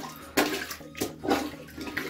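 A plunger forces the water out of a toilet bowl down the drain, giving rhythmic wet sloshing gurgles roughly every half second, close by.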